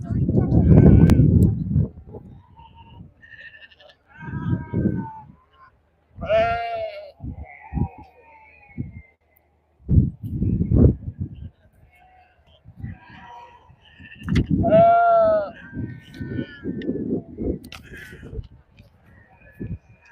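Valais Blacknose sheep in the judging ring at the Great Yorkshire Show give a few loud, wavering bleats, spread out among bursts of crowd chatter and handling noise.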